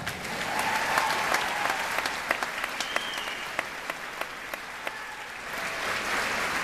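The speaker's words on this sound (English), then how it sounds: "let's do another applause." Crowd applause at a political neighborhood rally against a methadone clinic, sustained clapping from a gathered audience with a few sharper individual claps standing out.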